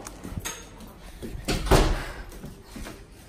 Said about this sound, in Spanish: Está abriendo la puerta.